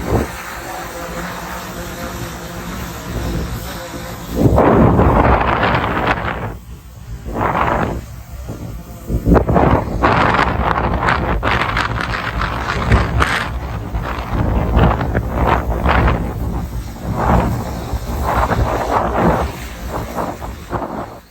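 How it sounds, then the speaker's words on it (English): Strong wind gusts in the Australian outback buffet the microphone in loud, uneven surges, rising and dropping in bursts of roaring rumble across the whole stretch. "And those wind gusts are pretty"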